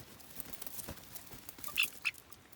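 Domestic ducks kept alongside chicks and guinea fowl keets let out two short, faint quacks amid quiet outdoor background noise.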